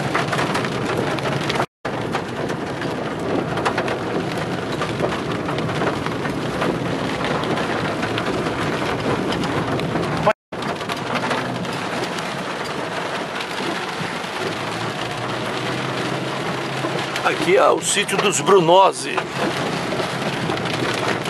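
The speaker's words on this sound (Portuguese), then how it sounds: "A chuva agora aumentou." Heavy rain pours steadily over rural Rolândia farmland in northern Paraná, a dense continuous hiss with a brief rumble near the end, while someone talks over it.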